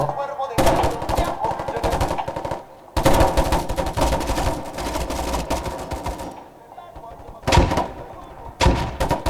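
Rapid automatic gunfire from a mobile shooting video game, loud bursts with brief pauses between volleys, dense and continuous across most of the stretch.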